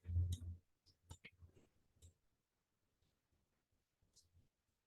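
A few sharp mouse clicks on a computer while uploading an app file, quiet and close, with a louder burst of handling noise at the start and faint clicks spaced over several seconds.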